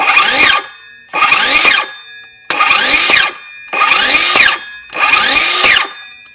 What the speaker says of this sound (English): I'm going to start it up and show you how it stops